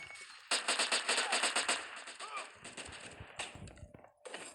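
Rapid automatic gunfire from a computer-controlled bot in a shooter game, bursts of closely spaced shots at moderate distance, with a voice talking over the firing.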